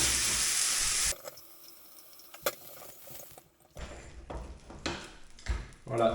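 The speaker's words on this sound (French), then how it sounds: "Voilà, déglacée, nettoyée, savonnée, remise en place pour demain" A hot frying pan is deglazed and washed at a sink: a loud burst of hissing steam and running water, then scattered clatters, tap flow and scrubbing sounds with pauses between them.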